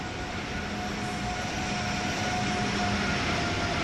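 A Metro-North commuter train pulls away in the Train Sim World 6 simulation on the New York to Stamford line, with a steady broadband rumble and hum that hold at an even level and carry no talk.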